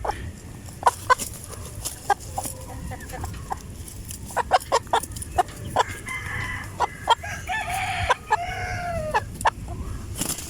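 Heritage hens, including Plymouths, cluck and cackle in a free-range farm yard, with repeated close, sharp clucks and a rooster crowing amid a busy outdoor flock.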